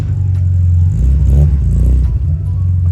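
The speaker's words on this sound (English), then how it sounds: "that's a nice exhaust, nice sounding exhaust" A Mazda 2 car with a free-flow exhaust revs in one rising, rumbling blip from a steady low idle, loud and close, then settles back down.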